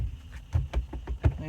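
A Hyundai Sonata steering wheel of the 2011 to 2014 generation is struck by hand a few times to work it loose, giving several dull, close knocks in an uneven rhythm.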